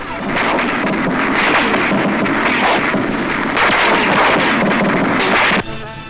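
Concentrated artillery shelling of the walled city on Dufferin Hill at Mandalay, Burma, during 1945 WWII fighting: a loud, continuous rumbling barrage with dense overlapping blasts that cuts off abruptly near the end.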